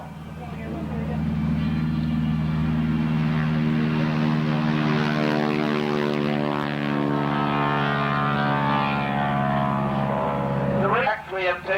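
Harvard warbird propeller plane with a radial engine flying over at an airshow in Geneseo, New York: a sustained, loud rasping engine drone with rising and falling prop pitch as it passes, with brief crowd noise near the end.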